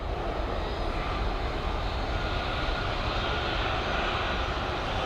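A plane departing Dublin Airport produces a continuous, broad aircraft engine roar that stays loud and steady throughout, heard from a distance with no voices.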